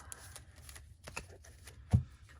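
Quick riffling and soft flicking of a Yu-Gi-Oh! card deck being shuffled close by, a few brief bursts with a sharper tap near the end.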